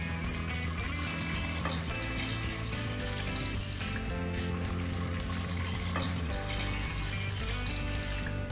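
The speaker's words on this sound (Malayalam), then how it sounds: "2 കപ്പ് വെള്ളം ഒഴിക്കാം." Water poured into a cooker pot for beef mandi, a continuous close gushing and trickling stream with a steady hum underneath and no talk.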